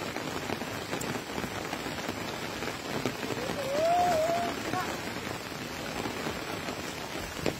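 Steady rain falling over a flooded rural area in Bangladesh, a dense close hiss of drops on water and surfaces, with a faint brief rising tone midway.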